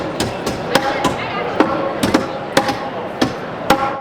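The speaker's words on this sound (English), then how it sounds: "a hammering competition that Anton ended up participating in." Hammer blows from a hammering competition at the International Builder's Show in Las Vegas ring out as sharp, repeated strikes at an uneven pace over a busy crowd murmur.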